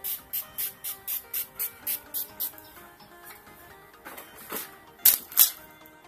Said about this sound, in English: What we did miss was setting spray, and here is the Urban Decay D-Slick.